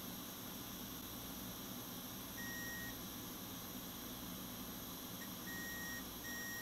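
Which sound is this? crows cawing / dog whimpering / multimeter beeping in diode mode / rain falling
multimeter beeping in diode mode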